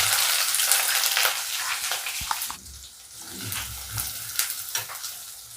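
Chopped onions hitting hot oil with popped mustard seeds, a loud bright sizzle with stirring scrapes that settles into a softer steady fry after a couple of seconds, close up.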